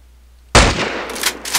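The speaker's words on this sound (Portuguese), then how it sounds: "Eu acabei apertando o tiro sem querer." A single loud gunshot, fired by accident in a Minecraft-style apocalypse survival game, cracks suddenly and rings out in a decaying boom with faint after-noises.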